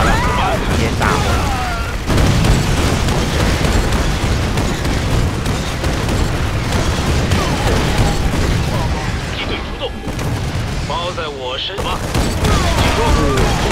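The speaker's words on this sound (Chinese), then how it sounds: "我是说你可以选择把旁边的那个炸弹直接炸了" Bombs and weapons blasting in StarCraft II's Terran campaign, a dense barrage of booms and bursts running throughout over game music, with voices talking in the middle and toward the end.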